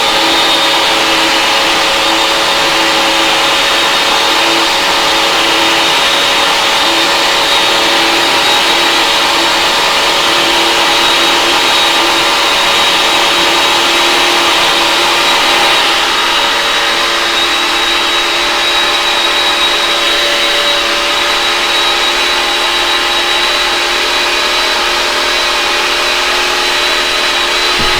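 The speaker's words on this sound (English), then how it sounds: "I love this food processor." Food processor loudly pulverizing garlic and mushroom tops, a harsh, steady motor roar with grinding texture that runs unbroken throughout, close and alone.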